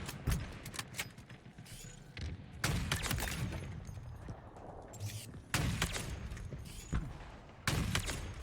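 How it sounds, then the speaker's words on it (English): Bursts of gunfire in the video game Halo Infinite, sharp loud shots arriving in quick clusters with pauses between them, layered over game ambience and mechanical clanks. "He just shot me through the wall."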